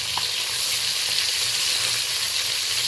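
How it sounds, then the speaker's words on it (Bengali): Pieces of small pond-raised catla fish frying in hot oil in a pan, a loud, close, continuous sizzle that holds steady throughout with no talking. "এবার মাছের পিসগুলো আমি ভালো করে ভেজে নিচ্ছি।"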